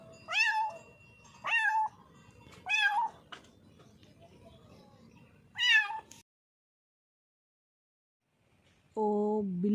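A kitten meows four or five times in close, plaintive calls spaced a second or so apart, with quiet indoor background between them, then a lower, drawn-out cry after a pause.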